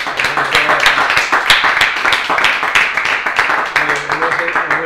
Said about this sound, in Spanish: Vamos a darle un recogido, pero caluroso aplauso.